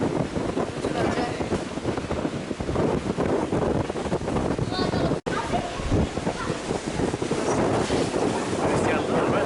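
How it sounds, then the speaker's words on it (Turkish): Strong wind buffets the microphone on a boat at sea along the French and Italian Riviera, a loud, continuous roaring rush mixed with water noise, briefly cutting out midway. "Rüzgarlıdır Becan ha."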